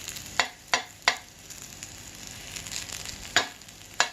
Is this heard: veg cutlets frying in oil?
yes